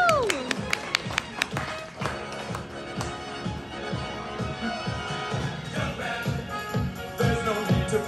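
A comedy club audience claps and taps for a performer, with scattered applause and a few sharp claps rising and falling over several seconds while someone talks over it.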